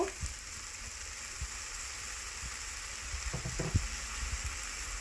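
Glass noodles stir-frying with soy sauce in a hot pan for a Thai fried glass noodle and egg dish, giving a steady broadband sizzle throughout with scattered soft scraping stirs and a small clack near the end, no talking.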